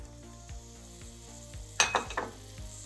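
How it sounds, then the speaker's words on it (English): Sliced onions go into melted butter in a pan, setting off a soft sizzle, followed by a sudden louder crackle and a few clinks of a utensil against the pan, close by. "And now we're just going to lay our onions right in there."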